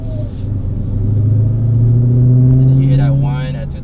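A 2022 widebody Dodge Charger Hellcat cruising near 2,000 RPM gives a steady, close engine drone with a rising supercharger whine that builds through the clip, and a brief voice near the end.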